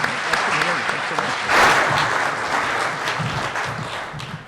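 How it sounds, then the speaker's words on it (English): Audience applause for a panel at a space policy forum, a sustained wash of many hands clapping that swells briefly near the middle and tapers off toward the end. "So round of applause,"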